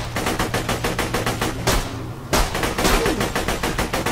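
Rapid automatic gunfire in Borderlands 2, a steady rhythmic burst of close, loud shots running throughout with a brief lull midway before the shooting resumes.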